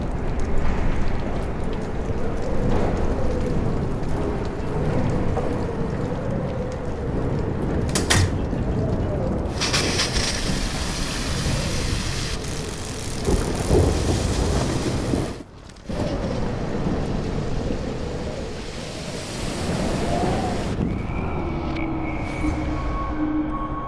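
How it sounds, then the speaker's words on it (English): A thunderstorm with heavy rain in the video game Life Is Strange: a dense, continuous roar of downpour and wind, loud and steady, with brief surges and a short dip near the middle. "Storms."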